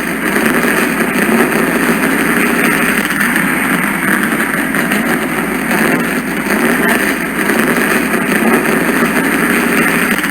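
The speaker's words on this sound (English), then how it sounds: "Now that the engines are fired and the cars are rolling off the pits" Race car engines run together in a steady, loud mechanical drone as cars roll off pit lane at the Charlotte Roval, with no talk over the sustained rumble.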